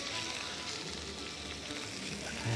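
Lamb meatballs fry in olive oil in an Armenian home kitchen, giving a steady, close, broadband sizzle that runs unbroken for the whole short stretch, with a slight swell at the very end.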